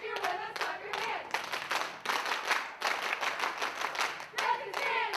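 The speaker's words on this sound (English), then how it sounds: "Redskins fans, in the stands, if you're with us, clap your hands!" Football fans in the stands at a varsity high school game between the Canisteo-Greenwood Redskins and York-Pavilion Golden Knights clap their hands in steady bursts, loud and close, with crowd voices and chanting mixed throughout.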